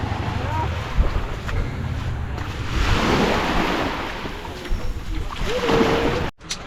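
A boat engine drones steadily at sea off Dumaguete, Philippines, over wind buffeting the microphone and rushing water, with a brief dropout near the end.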